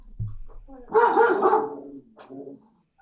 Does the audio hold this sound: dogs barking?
yes